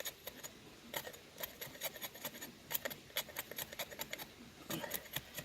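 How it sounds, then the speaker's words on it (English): A machete or kukri blade shaves kindling from the dry middle of a piece of wood, making a run of soft, quick scraping strokes close by with irregular spacing and faint background hiss. "I want to process kindlings or shavings from the middle"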